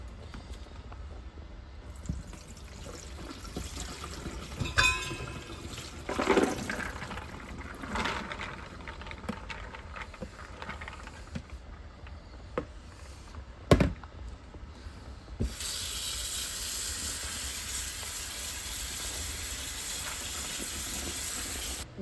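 Water splashes over soaked pinto beans as they are drained and rinsed in a kitchen, first as faint intermittent pours and knocks, then as a steady running stream near the end.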